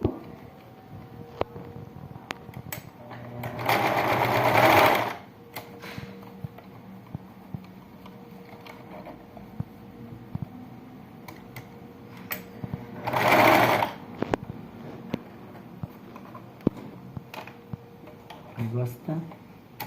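A sewing machine stitches a baby slipper with reverse stitches in two short bursts of fast needle chatter. Between the bursts come quieter handling clicks and ticks, with a voice speaking softly in places.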